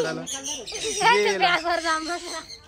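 A parrot takes off and gives shrill, squawking calls close by while people talk and exclaim over it.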